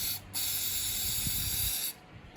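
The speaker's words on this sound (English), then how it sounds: "I'm going to spray some glue into this cup here." A steady aerosol glue spray hisses into a cup for about a second and a half, close and fairly loud, starting and stopping abruptly.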